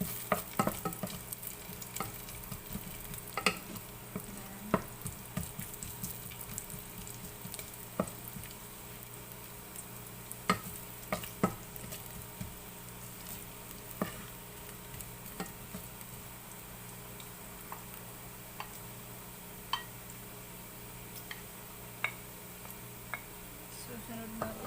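Ginger sautéing in a pan while cooking Bicol Express laing: a steady soft sizzle with frequent light clicks and scrapes of stirring, close, under occasional talking.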